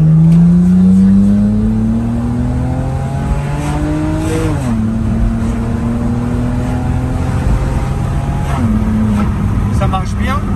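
A car in sport mode accelerates with a steady engine drone that climbs through rising tones and drops at gear shifts, heard from inside the cabin throughout.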